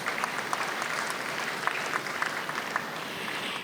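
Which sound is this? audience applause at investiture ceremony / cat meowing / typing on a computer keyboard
audience applause at investiture ceremony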